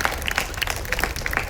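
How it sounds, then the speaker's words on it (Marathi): An audience at a Marathi public function in Talegaon Dabhade breaks into brisk, close, continuous clapping, with sharp individual claps standing out against a dense, lively crowd patter and no speech. "विवेक आणखी माधुरी या दोघांसाठी आपण जोरदार टाळ्या वाजवूया"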